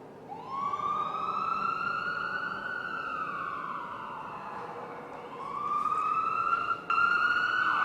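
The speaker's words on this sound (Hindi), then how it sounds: "एम्बुलेंस सायरन है ये।" An ambulance siren recording, a loud wailing tone that sweeps slowly up and down in long continuous cycles, steady and without talk.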